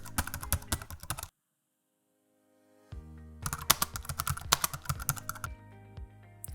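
Fast clattering keystrokes on a computer keyboard while typing C# code in Visual Studio, close and crisp, stopping for a silent pause of about two seconds before dense typing resumes, with no one talking.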